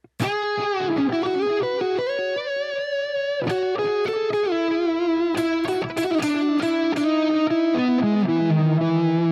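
Distorted electric guitar plays a sustained melodic line with repeating echoes trailing each note, loud and continuous throughout.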